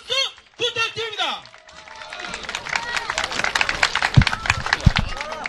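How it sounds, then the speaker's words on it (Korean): Crowd applause and cheering fill a fight venue at the end of a Neofight 14 MMA bout won by submission, a dense rising wash of clapping and noise following a few seconds of an announcer's voice. "힘찬 응원의 박수 부탁드립니다"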